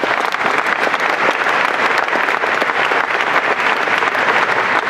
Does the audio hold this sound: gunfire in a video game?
no